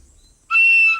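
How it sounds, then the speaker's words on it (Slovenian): An ordinary toy whistle found in a box of old junk gives one short, loud, shrill blast of about half a second after a moment of silence, in a cartoon. "Nič posebnega, to je čisto navadna piščalka"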